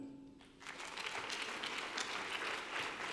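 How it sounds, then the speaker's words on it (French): Audience applause at a conference roundtable session, a steady crowd clapping that starts after a brief tone and continues evenly for a few seconds at moderate volume. "Vous pouvez l'applaudir."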